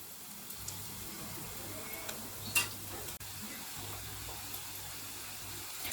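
Potato roll samosas fry in hot oil with a soft, steady sizzle and a low bubbling hum, with one brief clink partway through; quiet and close, no talking.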